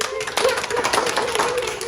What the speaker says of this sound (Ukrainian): Оплески вчительці.